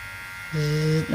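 A Xiaomi Enchen Boost electric hair clipper switches on halfway through, giving a steady close-up motor buzz with a strong low hum and bright overtones, held briefly before it wavers.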